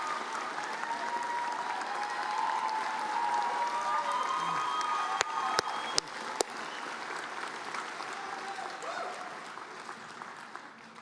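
Steady applause from a large audience at a law school commencement fills the room, with faint cheering and a few sharp louder claps near the middle.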